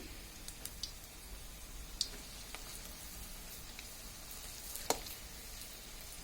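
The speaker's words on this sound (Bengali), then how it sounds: "ডুবো তেলে ভাজছি আমরা।" Capsicum pakora deep-frying in oil, a faint steady sizzle and crackle with a few sharp pops and ticks, heard up close with no talking.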